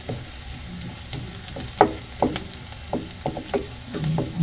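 Ingredients frying in a pan for a creamy carbonara, cooked until golden brown: a steady soft sizzle with a run of short clattering stirs and scrapes, close and fairly quiet, no voices.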